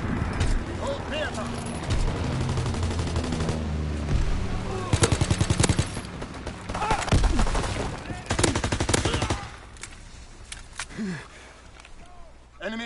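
Heavy anti-aircraft gunfire in a World War II shooter game: rapid automatic bursts and booming shots rattle loudly in overlapping volleys, broken by brief lulls, with radio-style voice callouts mixed in.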